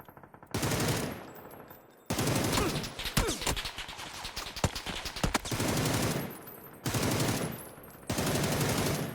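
Automatic rifle fire in PUBG rattles out in several sustained bursts separated by short silences, loud and close, with one longer irregular stretch of rapid shots in the middle.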